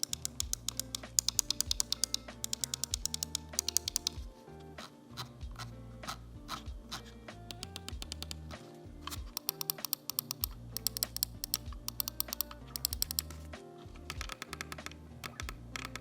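Rapid clicking from a Razer DeathAdder V2 Mini mouse, crisp repeated clicks in quick bursts and steady runs with short pauses, close and fairly loud, with no voices.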